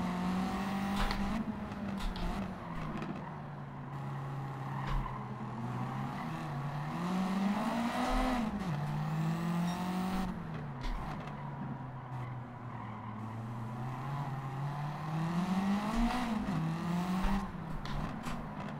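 Race cars in Gran Turismo 7, Super GT class, racing in a close pack, engines droning and rising and falling in pitch as they shift and corner, with occasional tire squeal, steady and loud throughout.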